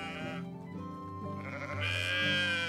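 Sheep in the video game Medieval Dynasty bleat in a few drawn-out, wavering calls, close and clear, one after another with no talk over them.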